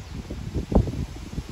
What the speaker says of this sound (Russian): Ветер усиливается, тоже уходим.